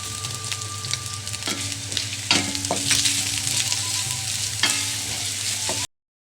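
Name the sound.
gently stirring vegetables in a pan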